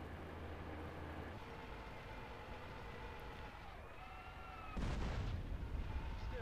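A tank cannon fires in GTA San Andreas near a train, a loud broadband boom with a sharp burst that rises over steady rumbling game noise and engine drone, followed by sustained rumble.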